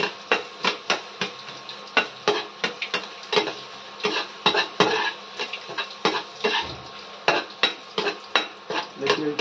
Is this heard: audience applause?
no